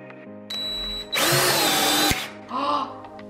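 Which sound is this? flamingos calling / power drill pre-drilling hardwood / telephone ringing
power drill pre-drilling hardwood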